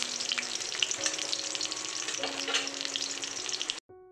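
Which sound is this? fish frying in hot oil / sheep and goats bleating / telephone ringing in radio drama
fish frying in hot oil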